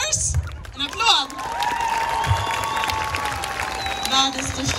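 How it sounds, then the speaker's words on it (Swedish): An audience claps and cheers at the closing number of a dance school show. The applause is fairly close and continuous, with a few whoops, and a voice speaks through it. "En applåd!"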